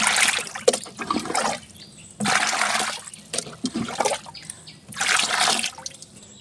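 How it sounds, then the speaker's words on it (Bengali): Liquid fertilizer mixture for chilli plants stirred in a container, three bursts of sloshing, swirling water with short quieter pauses between them, close and fairly loud with no talking. "এবার একটু ঘেটে দিতে হবে এটি দিয়ে আমি একটু ঘেটে দিলাম"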